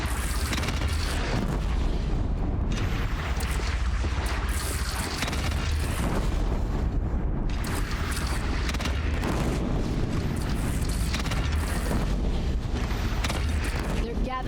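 Cannon fire booms through a chaotic battle in Horizon Zero Dawn, with heavy blasts, mechanical clatter and crashing noise filling a dense, continuous, loud soundscape.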